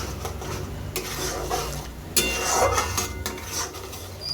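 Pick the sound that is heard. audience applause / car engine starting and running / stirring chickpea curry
stirring chickpea curry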